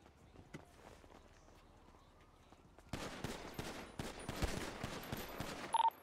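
Gunfire rings out in a GTA RP video game as a cop is shot: a quiet stretch of footsteps and movement, then a burst of rapid, sharp shots in quick succession.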